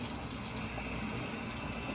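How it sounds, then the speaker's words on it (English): Warm tap water runs steadily from a kitchen faucet into a cooking pot for smoked neckbones and pinto beans, a continuous close splashing gush with no voices. "I'm about to add my water in here"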